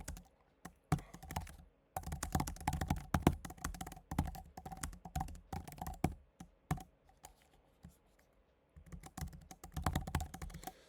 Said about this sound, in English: So again, I'll type out what this will be.